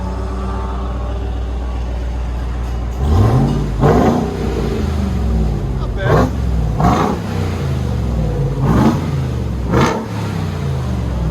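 A RAM TRX pickup's supercharged 6.2L Hemi V8 idles with a deep rumble before a muffler delete, then revs hard several times in sharp bursts, loud and close; someone speaks briefly.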